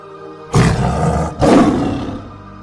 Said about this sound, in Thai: เสียงคำรามดังกึกก้องกำปนาต